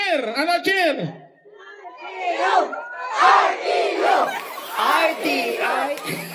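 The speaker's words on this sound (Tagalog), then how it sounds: "isang malakas na hiyawan!" A crowd of RTU students at a civic parade roars with loud shouting and cheering in repeated swelling waves, after a brief lead-in of amplified voices over the loudspeaker.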